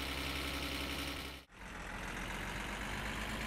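The engine of a slow old van revs under acceleration in the video game My Summer Car, a steady, loud droning hum broken by a brief dropout around the middle.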